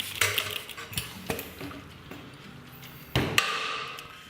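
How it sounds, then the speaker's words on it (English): A metal lid is set back onto a home-brewing beer keg, heard as a few sharp metallic clanks and taps with a louder clunk near the end, close by and without talk. "So then we place our lid back on the keg."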